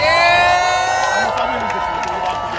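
A crowd at a rally cheers and whoops loudly for a speaker being introduced, a dense close roar of voices that tapers slightly after the first second.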